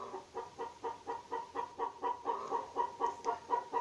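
Rapid, rhythmic clucking from a group of chickens, steady pulses repeating several times a second at moderate volume, no voices.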